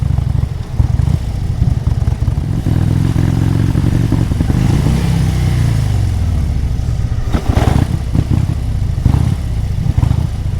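A motorcycle engine with major faults runs rough at idle without throttle, a loud close uneven chugging and clattering with a brief swell of revs midway and no talk.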